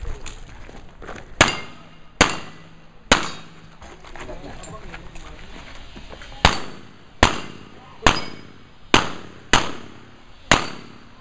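Gunshots ring out at steel targets in an all-steel shooting competition, a few spaced shots then a quick, steady string of about seven sharp cracks, each followed by a metallic ring.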